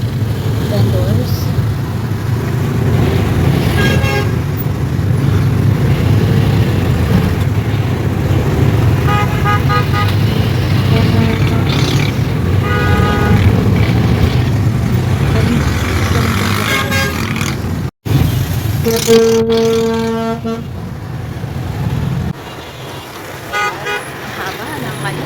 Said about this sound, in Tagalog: Haba ng traffic, diba? Medyo haba to.